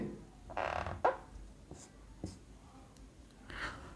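Chalk or marker scratching on a board while an equation is derived, several short bursts of strokes at close range, fairly quiet, with a teacher's low voice in between.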